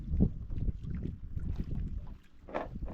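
A low engine rumble of a boat on water, mixed with wind buffeting the microphone and splashing, continuous and fairly close.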